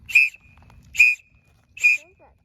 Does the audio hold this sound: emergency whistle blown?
yes